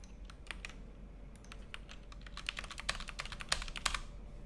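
Rapid keystrokes on a computer keyboard as a hashtag is typed, a steady run of close, crisp clicks with brief pauses, growing slightly busier toward the end over a faint low hum.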